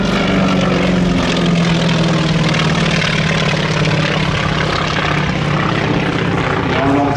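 A North American T-28C Trojan propeller aircraft with a Wright radial engine roars overhead at an air show, a loud, steady, dense engine drone that holds for the whole stretch.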